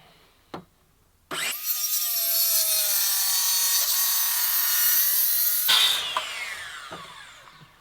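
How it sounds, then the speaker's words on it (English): A circular saw cuts freehand through a wooden door: a click, then the blade spins up and bites in with a loud, sustained whining rasp for about four seconds before winding down. "the circular saw blade is always cutting on the up"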